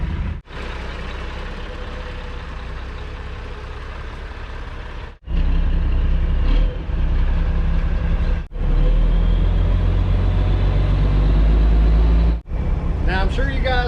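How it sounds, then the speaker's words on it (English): A dump truck's raised bed lets gravel rattle and slide out over a loud, steady diesel engine drone, with a few abrupt breaks in the noise and a voice briefly at the end. "Now I'm sure you guys heard the gravel start rattling and shifting."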